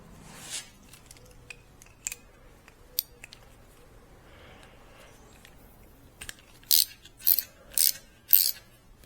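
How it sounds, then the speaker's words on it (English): Clicking and ratcheting from a 6 mm Allen key working a brake pin on a Suzuki DR-Z400S front brake: sparse light clicks and taps, then a run of four loud, evenly spaced rasping ratchet bursts near the end, close by with no talk. "It needs a 6 mm Allen key to remove it."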